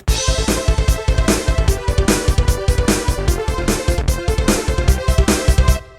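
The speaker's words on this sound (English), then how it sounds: "Okay, so let's synth poly. Let's see what they sound like." A bright, dense Korg M1 polyphonic synthesizer patch plays rhythmic chords over a thumping beat, loud and continuous, with no talking.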